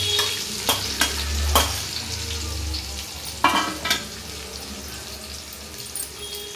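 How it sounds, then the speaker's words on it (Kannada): Chopped onions and green chillies frying in a pan, a steady close sizzle with several sharp stirring scrapes and clatters of a utensil against the pan, no voices. "ಚೆನ್ನಾಗಿ ಇದು ಕಂದು ಬಣ್ಣ ಬರೋದು ಅಂತ ಫ್ರೈ ಮಾಡಬೇಕು"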